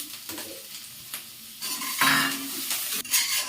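Whole spices sizzle in ghee in a pan as a spoon stirs and scrapes, with short metallic clinks and bursts of frying that swell louder toward the end.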